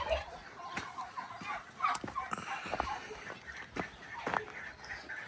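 Turkeys gobbling in short, scattered bursts against faint background noise, several birds calling at a moderate distance.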